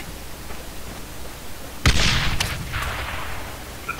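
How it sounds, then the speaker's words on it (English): A grenade detonates in Arma 3, one sharp loud blast followed by a rolling, noisy tail that fades over a couple of seconds against a quiet battlefield background. "That was a grenade!"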